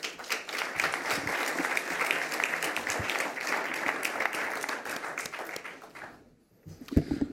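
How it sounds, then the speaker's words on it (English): A conference audience applauds panellists at the close of a horse racing industry session, a dense, steady round of clapping filling the hall for about six seconds before stopping abruptly, followed by a brief low sound. "if you could just give my panellists a round of applause"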